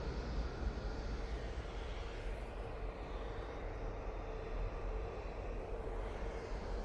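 Etihad Boeing 787-10 Dreamliner jet in Warner Brothers livery at Manchester Airport, a steady broad engine roar held at constant loudness from a moderate distance, with no voices.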